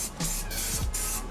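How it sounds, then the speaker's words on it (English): A spray paint can of black paint (gloss or matte) being tested for a Mazda Miata: a few short close hissing bursts with brief gaps between them. "we're gonna go spray it on something in here and see which one looks better"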